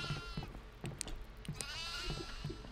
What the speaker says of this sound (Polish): Ej, kozy!